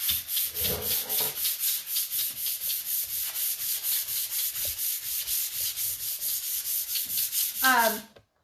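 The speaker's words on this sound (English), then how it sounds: "I'm just going to give it a light sanding with a sanding sponge." Rhythmic back-and-forth rubbing strokes, about three per second, of a sanding sponge lightly sanding a painted dresser, close and steady, ending with a brief scrape.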